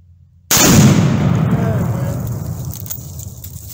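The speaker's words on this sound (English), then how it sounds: "I don't think the first Tannerite went off, so we're gonna shoot it again" A gunshot sets off a Tannerite charge of about half a pound, producing one sudden loud boom that breaks the quiet and then rolls on in a long, slowly fading rumble outdoors.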